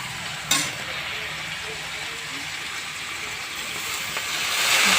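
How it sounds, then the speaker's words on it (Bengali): Water poured into a pan of chachi greens cooking on the stove sets off a burst of sizzling and steaming that hisses steadily at close range and swells toward the end. "এবার একটু জল দেব।"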